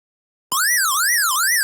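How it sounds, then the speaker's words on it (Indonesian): A room security alarm's buzzer, triggered by a motion sensor, starts abruptly and wails loudly in a rising and falling siren-like sweep, close and steady, with no talking. "sensor field terdeteksi adanya gerakan dan ada juga menampilkan suhu saat ini dan si buzzer tadi aktif"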